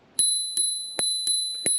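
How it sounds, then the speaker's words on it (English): Dual spring bell on a Hiboy electric scooter rings five times in quick succession, each a bright metallic ding that lingers briefly, close and clear with nothing else around it. "It is a dual bell"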